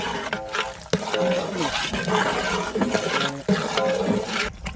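A ground paste of coriander, mint and green chilli is stirred in a pot for chicken biryani, with wet scraping and squelching strokes and a soft sizzle, close up and busy throughout.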